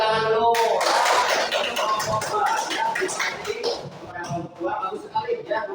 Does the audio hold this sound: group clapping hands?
yes